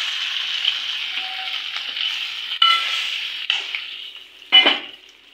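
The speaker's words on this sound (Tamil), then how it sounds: "நல்லா வதக்கி விட்டு இந்த சாம்பார் சாதத்தில் எடுத்து கொட்ட வேண்டியது தான் தாளிப்பு." A tempering of curry leaves for sambar rice crackles and sizzles steadily in oil, with brief clangs and stirring scrapes partway through and a sharper burst near the end.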